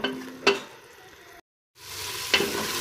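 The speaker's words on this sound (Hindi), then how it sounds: "ये देखिए मसाला हमारा माशाल्लाह बहुत अच्छे तरीके से भुना जा चुका है" Masala for tarka moong dal sizzles and fries in a pan under a low steady hiss. Two sharp scraping stirs cut through it, with a brief silent gap between them and no talking.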